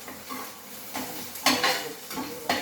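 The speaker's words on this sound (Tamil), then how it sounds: "வெங்காயம் நல்லா இன்னும் ஃப்ரை ஆகணும்." Onions frying in a pan, soft sizzling broken by several sharp spoon scrapes and metallic clinks against the pan at irregular intervals, close and fairly quiet.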